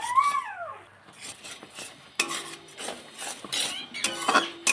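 Raw plum pickle mixture being stirred with batasha sugar drops, giving close, irregular scraping and clinking strokes of a spoon against a bowl, fairly loud and repeated, with no talk.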